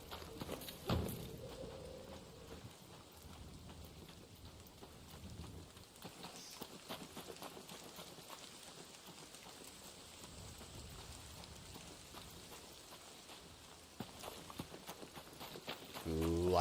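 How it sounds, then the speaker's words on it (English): Steady rain patters down in the video game ARC Raiders, a continuous wash filling the scene at moderate level, with occasional footstep-like taps and a louder burst near the end. "It's raining, it's pouring."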